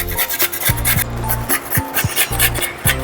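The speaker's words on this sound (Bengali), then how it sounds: "এই যে গাজরটা প্রথমে এরকম একটা গ্রেটার নিয়েছি, গ্রেটারে এইভাবে গ্রেট করে নিই।" A carrot is grated on the coarse side of a hand grater, heard as close, loud, rhythmic rasping strokes repeating several times in quick succession.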